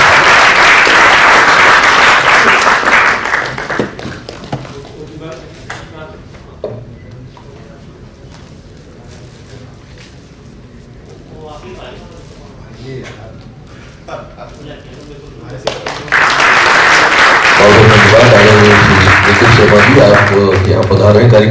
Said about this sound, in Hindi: श्री दिनेश नायर, ताली हो जाए।